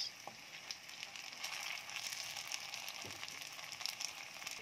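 Fish spring rolls (lumpiang isda) sizzle steadily in oil over low heat, a continuous dense crackle with scattered small pops, close and alone with no voices.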